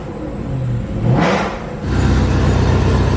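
A car engine revs up with a rising whoosh through a phone-controlled smart exhaust, then settles into a steady, throaty rumble close by.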